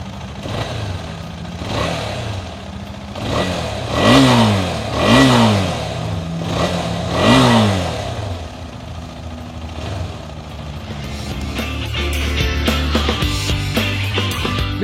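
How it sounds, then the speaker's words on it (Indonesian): A KTM 250 Adventure 250cc motorcycle engine starts and is revved several times in rising and falling bursts, then settles into a steady, smooth idle; close and loud. "suara mesinnya udah lebih halus dibandingkan mesin 250cc KTM sebelumnya"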